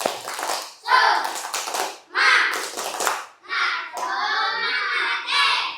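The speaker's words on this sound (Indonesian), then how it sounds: "Sebelum kita mulai, kita tepuk semangat dulu." A class of children does a rhythmic spirit clap in a classroom, with bursts of patterned clapping and chanted voices in several short phrases that end in a longer shout.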